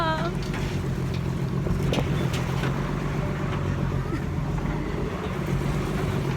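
Riding aboard a sugarcane truck in the province: a constant low engine drone and road rumble fills the ride, steady and close, with a brief voice heard at the start.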